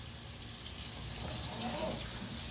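Cold water running from a tap into a container of chicken brine with beer, a steady hissing gush that fills the whole stretch at moderate level, close by and without speech.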